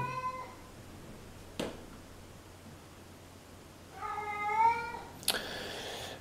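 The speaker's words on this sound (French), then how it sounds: "Bilbo, c'est le chat." A cat meows twice, a short call at the start and a longer, drawn-out meow near the end, with a couple of soft knocks in a quiet room.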